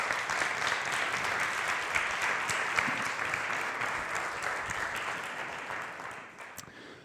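Audience applause at a conference on rosé wine, a broad even roll of many hands clapping that holds steady and then eases off slightly near the end, slightly distant and with no talking.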